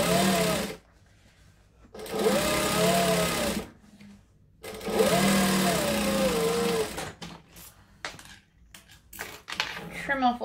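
A domestic sewing machine top stitching along a folded fabric layer, running in several close mechanical whirring bursts of one to three seconds with pauses between them and shorter stitches near the end.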